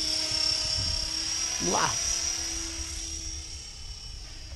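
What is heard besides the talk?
class 500 RC helicopter flying low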